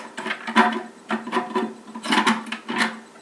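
A toilet cistern float mechanism is unscrewed by hand, making a close series of short plastic rasping and rubbing twists in uneven bursts.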